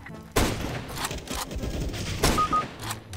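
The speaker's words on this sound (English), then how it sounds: "He do be shooting through the fucking walls," Shots fired through walls in a first-person shooter game: a sharp loud report followed by a dense, muffled spray of rapid gunfire and another burst, all blurred together over game background noise, with no talking.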